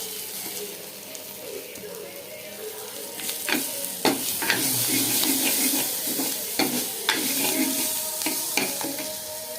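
Onions sauté in a pan, a close, steady sizzle punctuated by sharp spoon-on-pan taps and scraping stirs that grow busier midway.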